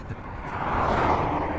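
Porsche cars drive past along a highway in the Colorado mountains, a steady broad road and engine roar that swells toward the middle and holds, fairly close, with no voices.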